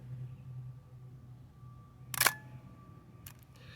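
A Konica Autoreflex T film camera fires its shutter at 1/30 second, a single sharp mechanical clack of mirror and curtain, then a fainter click about a second later, set against a quiet background hum.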